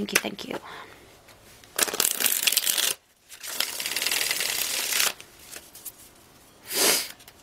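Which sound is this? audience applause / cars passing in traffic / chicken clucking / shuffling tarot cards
shuffling tarot cards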